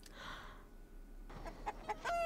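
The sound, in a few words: chickens clucking in Fallout TV episode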